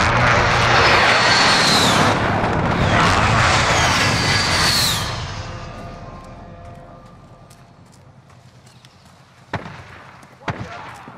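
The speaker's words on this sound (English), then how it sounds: "Friendly precision airstrike on the way." Airstrike aircraft in a modern warfare video game sweep overhead with a loud, roaring jet whoosh that rises and swells twice, then fades into a distant hum before two sharp cracks ring out near the end.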